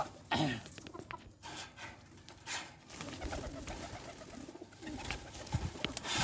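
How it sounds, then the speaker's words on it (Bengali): Sirazi pigeon cooing in soft, low repeated murmurs within a busy loft, with rustling and other bird calls around it at moderate distance. "এই একটা কবুতর এটা আছে সিরাজি কবুতর"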